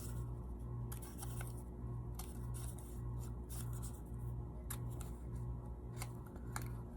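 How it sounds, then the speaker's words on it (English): Scissors snip small slits in craft material for a primitive Christmas decoration, a quick series of sharp close-up cuts over a quiet background hum. "just going to cut some little slits"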